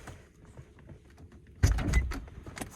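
Electric window motor on an Infiniti G37S coupe door whirring as the glass rolls down, starting abruptly after a quiet lead-in and running steadily close by for about a second, with a faint thump near the end.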